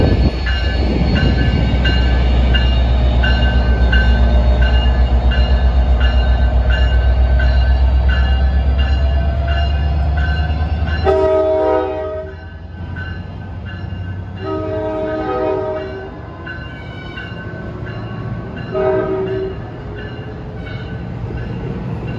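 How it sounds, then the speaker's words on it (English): New Jersey Transit diesel train rumbling loudly past at close range with a steady heavy engine drone, then several long blasts of its horn sounding in the second half. "I just got off train 1161 of New Jersey Transit"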